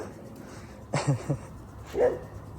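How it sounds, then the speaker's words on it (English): A dog barks at someone nearby, two short separated bursts, a sharp bark followed by a softer yip, over a quiet background. "my dog barking at somebody"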